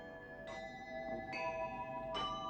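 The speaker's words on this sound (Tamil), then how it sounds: "அதோ பார், கோயில் மணி ஓசை கேட்கிறதா?" A temple bell struck three times at a steady interval, each ring bright and sustained with long overlapping resonance, fairly quiet and heard on its own.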